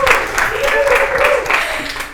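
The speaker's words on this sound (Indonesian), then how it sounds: "Keren, tepuk tangan" A group claps in applause for an animator, a dense burst of hand claps close by with voices talking and cheering over it.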